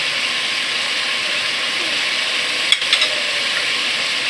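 Mutton frying as the remaining whole onions go in, giving a steady, close hiss of sizzling broken by a brief clatter and knock partway through.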